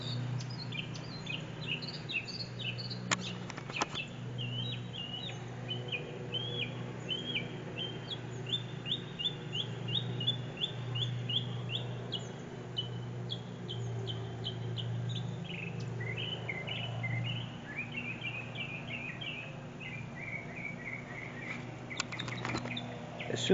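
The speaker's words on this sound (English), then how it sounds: "listen to the birds sending out the warning that the hawk is around" Small birds give rapid, repeated chirping alarm calls about a nearby hawk, steady series of sharp notes at moderate distance over a constant low outdoor hum.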